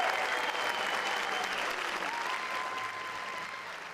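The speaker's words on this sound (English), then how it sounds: "Let's give our elementary teachers of the year one more round of applause" An audience claps for elementary school teachers of the year at a district honors ceremony, a full, sustained round of applause that stays loud and slowly tapers, with a faint tone and murmur underneath.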